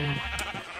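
The questing ram from the Minecraft Twilight Forest mod gives a single short, close bleat lasting under a second, clear and fairly loud.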